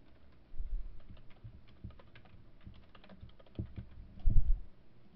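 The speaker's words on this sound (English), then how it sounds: "now type in whatever text you want." Typing text on a computer keyboard in quiet surroundings, steady soft key taps with a few heavier thumps, close and isolated with no voices.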